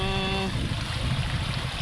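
Floodwater left by Typhoon Pepito rushes through a residential area like a river, a steady loud roar of flowing water heard close by, with a brief voice at the start.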